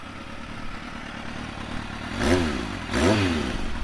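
A Kawasaki Z motorcycle engine fires up close by, two short cranking-and-catch bursts about a second apart that rise over a steady low background.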